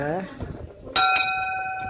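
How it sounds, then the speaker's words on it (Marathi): A temple bell in Devgad, Konkan, is struck twice, two bright ringing tones a quarter second apart, sustaining and fading slowly, following a brief burst of speech. "घंटी वाजवते."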